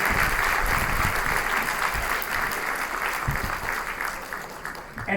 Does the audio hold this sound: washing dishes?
no